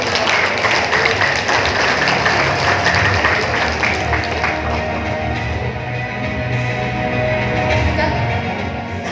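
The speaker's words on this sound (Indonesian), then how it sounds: "mari kita berikan tepuk tangan yang meriah untuk Ibu Wahyuni Iskandar" A graduation ceremony audience at an Islamic university faculty in Makassar breaks into sustained, dense applause that stays loud and steady throughout, with a faint voice or two underneath.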